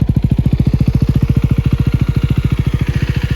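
KTM Duke motorcycle engine idling close up, a steady rapid thumping pulse, even and unchanging, with no voices; coolant leaking from a loose fitting.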